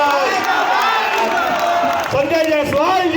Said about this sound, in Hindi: एक बार जोरदार तालियों से स्वागत करेंगे आप लोग